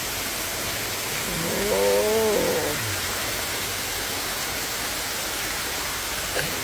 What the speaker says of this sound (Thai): นี้น้ำตก สวยงาม